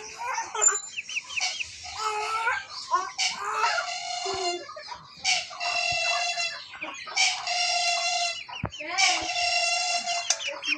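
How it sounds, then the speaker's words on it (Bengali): Domestic chickens around a home cluck and squawk in repeated bursts, loud and close, with harsh raspy calls overlapping each other throughout. "মুরগিগুলো তো পাগল করে দিচ্ছে"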